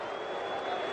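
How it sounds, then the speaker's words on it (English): A cricket crowd jeering at the end of an over bowled by Andrew Flintoff, where Sachin was given out: a dense, steady roar of many voices spreading across a large stadium, held evenly throughout. "lots of booing there at the end of that Andrew Flintoff over"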